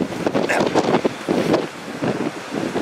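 Constant, loud gusts of wind buffet the microphone in Wellington, a rough, blustery roar that surges and eases without pause throughout.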